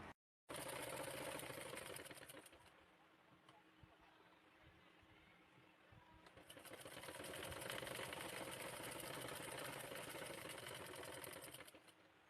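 A sewing machine stitches a blouse along a marked line, running steadily for a couple of seconds, pausing briefly, then resuming a longer, fast, even whirring run, close and clear with no talking.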